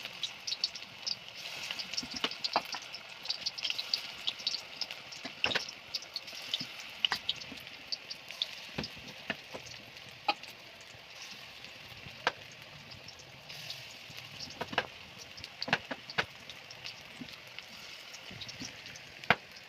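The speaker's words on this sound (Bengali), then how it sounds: "তেলটা গরম হয়ে গেছে, এখন আমি ভেজে নেব।" Broccoli pakoras fry in hot oil with faint crackling and sputtering, broken by scattered small clicks and taps, quiet and close with no talk.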